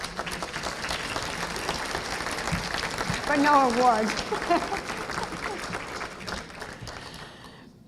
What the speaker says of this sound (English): I really, really would like you to give him a round of applause.